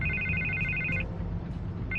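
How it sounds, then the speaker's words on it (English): Telephone ringing in Batman: The Telltale Series, a loud electronic double trill that rings for about a second, pauses, then starts again over a low game background hum. "I can't get the phone to stop ringing."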